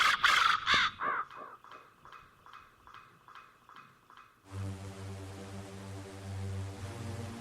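A raven caws in a series of harsh, rasping calls, loud at first and then thinning into quicker, fainter repeats. Then a low, steady droning tone swells in as eerie backing for a dark poetry reading.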